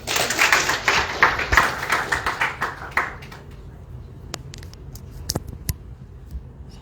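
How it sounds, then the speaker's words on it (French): An audience at a celebration in Dakar's Grand Théâtre National claps briskly for about three seconds, then the applause thins to a few scattered, sharp single claps. "Sous vos applaudissements, s'il vous plaît"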